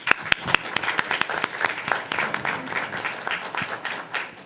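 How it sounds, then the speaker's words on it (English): An audience at a city council meeting claps in a round of applause, a fairly dense patter of individual hand claps with some sharper, nearer slaps, steady for several seconds in a room. "Y'all give them a round of applause."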